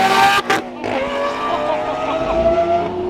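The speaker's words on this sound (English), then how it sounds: "Somehow we're driving a Murcielago, boys, an LP640." A Lamborghini Murcielago LP640 V12 engine roars loud and close from inside the car, with rising and falling rev harmonics and a brief sharp burst early on, alongside tyre noise.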